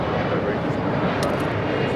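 A United Airlines Boeing 737-800 arriving at LAX on a flight from Chicago O'Hare gives off a steady, broad jet roar that stays loud and even from start to finish, with no break in the rumble.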